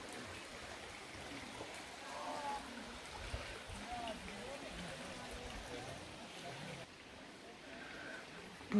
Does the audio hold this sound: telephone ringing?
no